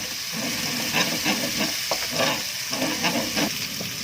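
Chili paste for mie siam being stir-fried in a wok, a steady sizzle with repeated scraping strokes of the spatula in a regular rhythm, close and moderately loud.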